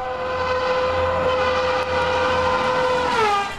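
An Indian Railways train horn blares loud and continuous for a few seconds, a sustained multi-tone blast that bends slightly downward at the end, with rail rumble underneath.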